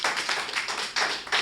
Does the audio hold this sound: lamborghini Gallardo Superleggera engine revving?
no